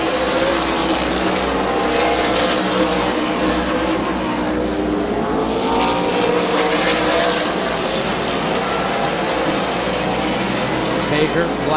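Stock race cars roar continuously around Midvale Speedway, a dense steady engine drone with a commentator talking over it throughout.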